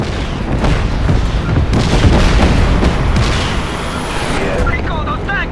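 Tank fire and explosions in the open-world action game Just Cause 3 on Xbox One X: heavy booms and blasts crowd together over a constant roar of battle, with a voice shouting over the chaos.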